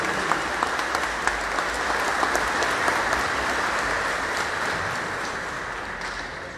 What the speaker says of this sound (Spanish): un fuerte aplauso realmente